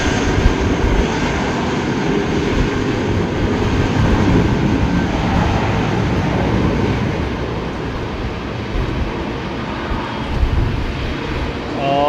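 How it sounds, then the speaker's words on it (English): A Qatar jet airliner takes off at Heathrow in windy weather, its engines a loud, steady roar that holds for the whole stretch, with voices talking faintly over it. "Joe Martin, the thing is, after V1, no one should manipulate or even think about rejecting the takeoff."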